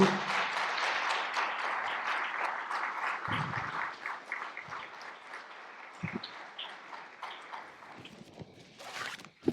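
An audience applauds to welcome a speaker, Pedro Martínez Kosowski, at a formal event. The dense clapping is loud at first, then thins and fades to scattered claps over about nine seconds.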